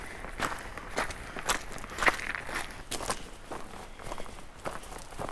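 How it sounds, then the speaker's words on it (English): Steady crunching footsteps of someone hiking downhill off a mountain near Zapata Falls, Colorado, with an even walking rhythm on gravelly ground, fairly quiet and close with no talking. "now we have to walk off this mountain"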